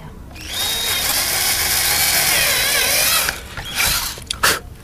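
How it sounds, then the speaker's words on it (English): A power drill bores mounting holes for Dynafit ski bindings, its steady loud whine running for about three seconds before cutting off into a few short bursts and stops. "make sure that you've got the bit in tight."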